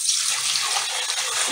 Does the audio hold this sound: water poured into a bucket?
yes